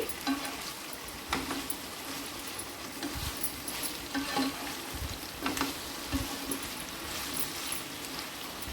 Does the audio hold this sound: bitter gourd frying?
yes